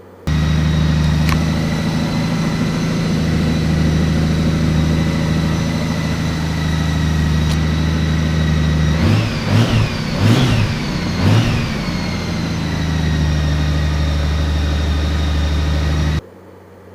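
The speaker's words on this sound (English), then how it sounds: "Now, the bike sounds a little bit different. It sounds a little bit more aggressive." A Honda Goldwing motorcycle fitted with a K&N air filter idles steadily and close, a deep even rumble, then gives three quick throttle blips in a row before settling back to idle.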